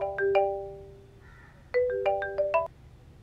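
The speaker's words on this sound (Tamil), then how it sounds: "ஏய், ஃபோன் வருது." A phone rings with a melodic electronic ringtone, two bursts of bright stepped tones separated by a short quieter gap, clear and fairly close in a quiet room.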